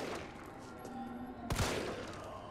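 Zombies are shot in the PC version of Resident Evil 3 as one sharp, close gunshot cracks midway through a low, steady game ambience.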